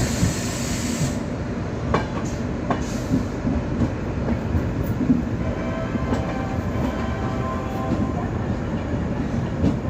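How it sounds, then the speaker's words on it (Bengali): An Anand Vihar to Sealdah express train runs at speed, heard from onboard as a loud, continuous rumble and rattle of wagons with rhythmic wheel clatter and faint squeals, steady throughout. "আমাদের ট্রেন কি তার সঠিক সময়ে আনন্দবিহার টার্মিনাল থেকে বেরিয়ে গেছে"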